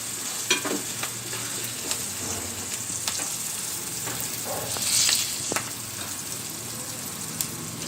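Green chillies and onions fry with salt in a pan as tempering for vermicelli upma, a steady close sizzle with occasional stirring scrapes and clinks throughout, no voices.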